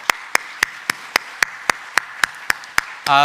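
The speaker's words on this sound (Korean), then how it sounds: "이 한 주 인도하신 주님께 감사의 박수 올려드리겠습니다." A congregation's thanksgiving clapping during a New Year dawn prayer service in a church comes across as about ten evenly spaced, sharp claps in a steady rhythm, ending with a brief sustained tone.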